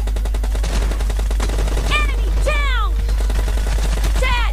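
M4 rifle gunfire in PUBG Mobile rattles out in rapid automatic bursts, loud and close, with whooshing sweeps layered among the shots.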